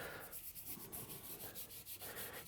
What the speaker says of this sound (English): I normally just like to brush it on.